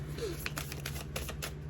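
Tarot cards being shuffled by hand during a pick-a-card reading, giving a run of soft, quick riffling clicks and taps over a steady low hum, close and fairly quiet.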